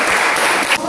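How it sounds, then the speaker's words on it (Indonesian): A short burst of group clapping in a classroom session, a single quick collective clap lasting under a second, loud and close. "Tepuk tangan sekali."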